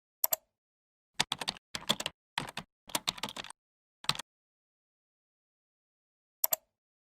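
Close, quiet keystrokes on a computer keyboard come in several short bursts of rapid tapping with brief pauses between, then a final lone pair of taps after a longer silence; no voices.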